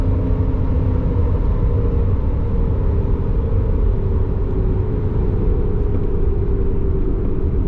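A second-generation Honda CR-V fitted with a lift kit drives on a road, its engine and tire rumble steady and loud from start to finish, with no talk.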